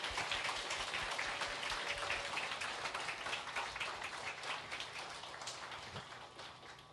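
Sustained applause from a church congregation welcoming a missionary, dense and steady clapping that fills the room, fading slightly toward the end.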